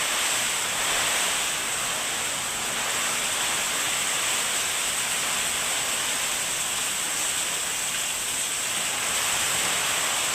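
Rushing floodwater during a typhoon, a loud, unbroken broadband roar that holds steady throughout with no talk over it.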